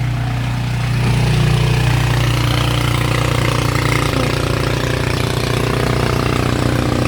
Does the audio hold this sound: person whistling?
no